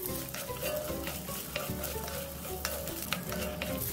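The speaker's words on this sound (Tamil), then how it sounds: "புளியும் சேர்த்து வறுத்துடலாம், இதுலேயே வதக்கிடலாம்" Tamarind and coconut sauté in a pan for a chutney, with a steady close sizzle and occasional scraping stirs throughout, no voices.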